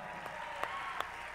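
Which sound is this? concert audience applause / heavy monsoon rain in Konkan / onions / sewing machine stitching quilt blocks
concert audience applause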